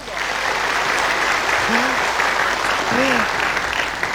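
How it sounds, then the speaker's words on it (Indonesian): Steady, full applause from a studio audience in the TVRI auditorium in Senayan, Jakarta, with a couple of brief cheering voices rising above the clapping. "Tepuk tangan dulu dong."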